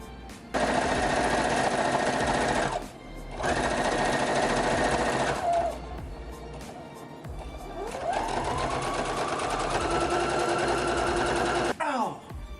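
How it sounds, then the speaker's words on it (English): A sewing machine stitches fabric with black thread in long, steady loud runs, pausing briefly between bursts, with the motor pitch rising as it speeds up near the end. "Now we get to sew."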